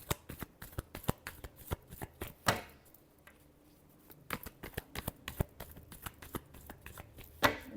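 Tarot cards are shuffled by hand in rapid bursts of crisp riffling slaps and flicks, close and clear, with a short pause midway and no talking.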